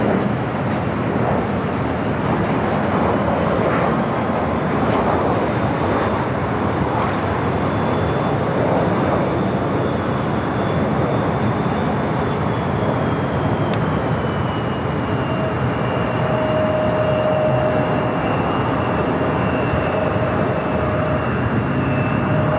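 A jet airliner at LAX airport, SkyWest Delta Connection flight 3951 bound for Phoenix, a loud continuous engine roar that holds steady throughout, with faint whining tones rising above the rumble.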